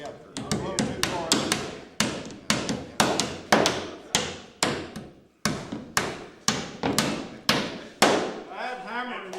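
Steady hammer blows strike wood while building a skiff, around two per second in short runs with brief pauses, sounding close and loud.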